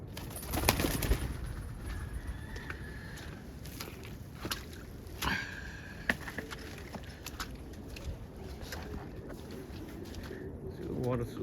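Soft pigeon coos come and go in a quiet outdoor setting, with a few faint clicks and rustles in the background.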